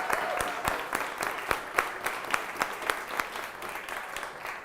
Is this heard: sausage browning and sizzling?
no